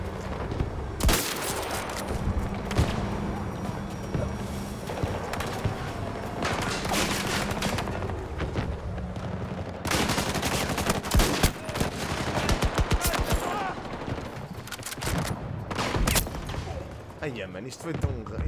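Video-game gunfire: rapid bursts of automatic shots and scattered single cracks, loud and near, filling most of the stretch, with a player talking over it.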